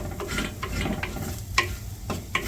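A pan of coriander, chilli and turmeric powder with garam masala, frying for a Kerala-style prawn curry, is stirred steadily: a constant sizzle runs under scraping strokes, with a few sharp clicks of the spoon against the pan.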